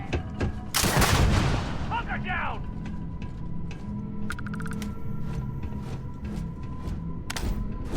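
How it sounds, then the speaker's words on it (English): Grenade launcher firing in the video game Starfield, one loud blast with a broad noisy burst followed by a lingering rumble, game effects and soft talk beneath. "I have a super stealthy grenade launcher."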